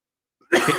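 A single sharp cough bursts out after a brief moment of near silence, close and fairly loud.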